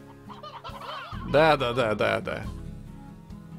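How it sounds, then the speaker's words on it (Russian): Chickens cluck in the farming game Slime Rancher, a burst of layered clucking calls near the middle, with a voice speaking briefly alongside. "19 куриц достаточно, мне кажется, для того, чтобы наверстать упущенное"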